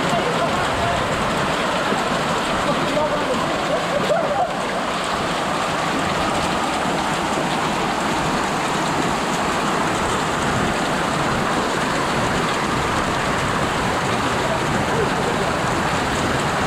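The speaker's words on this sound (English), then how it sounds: "actually got surprised by a hailstorm" A hailstorm pounds a rural lodge property in New Zealand's Marlborough Sounds, making a dense, unbroken patter and hiss that holds steady and loud throughout, with no voices heard.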